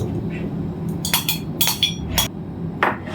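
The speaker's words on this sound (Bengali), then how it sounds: "এগুলো আমি চামচ দিয়ে খেয়ে নিচ্ছি।" A spoon scrapes and clinks against a yogurt container while someone eats, a few sharp, close metallic taps scattered over a low background hum.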